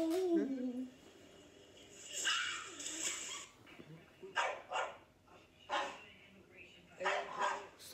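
A dog barks and yips in repeated bursts, fairly close and loud, with a person talking over and between the barks.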